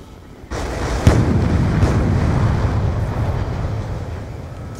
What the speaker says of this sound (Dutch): Dikke explosies hier.